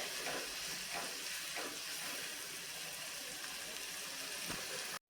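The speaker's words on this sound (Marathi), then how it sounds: "कांदा आणि टोमॅटो छानपैकी मऊ होईपर्यंत आपल्याला शिजवून घ्यायचे आहे" Onion and tomato cooking in a pan for paneer butter masala, a steady continuous sizzle with faint stirring scrapes, close and even throughout, cutting off abruptly near the end.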